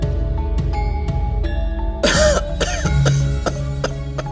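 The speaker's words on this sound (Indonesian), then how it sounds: "Tiba-tiba saja suara batuk dari Mahapati Aryatada telah mengagetkan Kartiko Sinumping" A few harsh coughs and throat-clearing bursts from a character in an audio drama break in midway over a sustained musical drone with plucked notes, loud and close.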